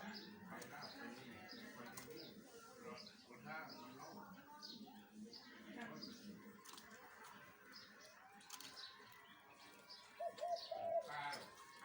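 A newly caged decoy bird hung in a coconut tree in front of a house gives soft cooing and chirping calls, faint and distant, under steady outdoor background noise and occasional talk.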